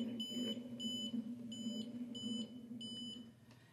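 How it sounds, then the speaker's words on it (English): A magnetic field sensor emits a string of five short, high electronic beeps at a steady rhythm whenever the reading exceeds 1 gauss, faint over a low continuous hum. "every time it hit top peak, positive integer, over 1 Gauss, I got a beep"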